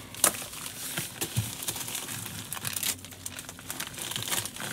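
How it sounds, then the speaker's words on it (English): A padded flat rate mailing envelope is handled and crinkled close by, producing irregular crackling and rustling bursts throughout with no talk. "Smash them. Padded flat rate envelope."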